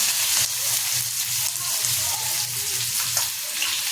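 Chopped onion fries in hot oil with cumin seeds, a dense, steady close sizzle with faint stirring scrapes running throughout, no voices.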